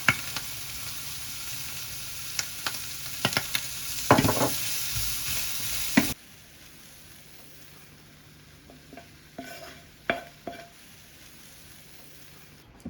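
Cabbage, egg and bacon stir fry sizzles loudly in a pan with bean sprouts and sesame oil, a spatula scraping and tossing in bursts before the frying settles to a quieter, steady hiss.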